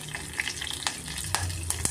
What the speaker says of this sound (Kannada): ಸ್ವಲ್ಪ ಸಾಸಿವೆ ಚಟ್ಪಟ್ ಅಂದ ತಕ್ಷಣ ನಾವು ಸ್ವಲ್ಪ ಕರಿಬೇವು ಸೇರಿಸ್ಕೊಳ್ಳೋಣ